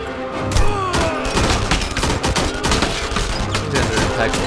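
Gunfire in the video game Enemy Front: loud, dense bursts of shots and thuds overlapping continuously, with mixed near and distant firing and no speech.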